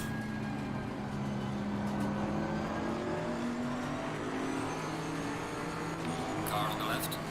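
Bentley Continental GT3 race car engine pulling hard under acceleration at Zandvoort in Assetto Corsa Competizione, a steady loud droning roar with rising harmonic tones, continuous throughout with no break.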